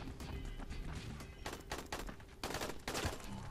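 Gunfire in the zombie game Dying Light: repeated loud rapid bursts of shots and crashes in clusters, with no talking.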